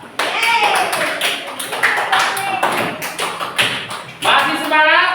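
A group of students in a classroom clapping for their classmates, uneven scattered claps and taps mixed with young voices and chatter.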